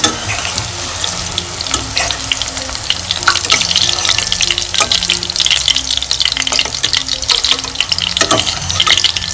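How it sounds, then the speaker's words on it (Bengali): Cauliflower pieces frying in oil over a low flame for gobi manchurian, a loud, steady, crackling sizzle with occasional stirring clatter and no talking. "হাই ফ্লেমে যদি ফুলকপিগুলো ভাজা হয় তাহলে ভিতরটা কাঁচা কাঁচা থেকে যাবে"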